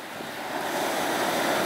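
Stormy sea surf and gusting wind heard from aboard a barge of a few dozen tonnes out at sea, a steady, loud roar of waves with rushing wind noise that swells slightly throughout, no voices.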